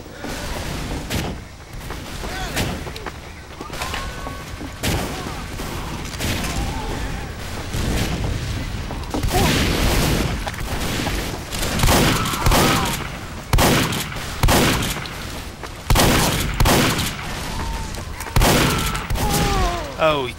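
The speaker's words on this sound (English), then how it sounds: "he won the shotgun battle" Rapid shotgun and gunfire bursts from a Team Fortress 2 firefight, loud sharp blasts repeating irregularly across the stretch, with a voice speaking intermittently beneath the shooting.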